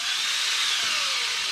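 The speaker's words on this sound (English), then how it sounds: "I'm gonna drill slow." A high, steady grinding whine of a drill slowly biting into an LS engine's metal crankshaft, close up and continuous for a moment, with its pitch sliding slightly.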